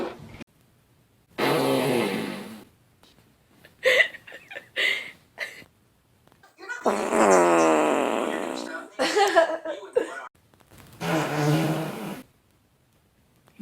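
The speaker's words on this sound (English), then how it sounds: "I could fart on command" A girl breaks wind several times in a row, a series of long, loud, buzzing blasts separated by silences, with some grunting and voice sounds between them.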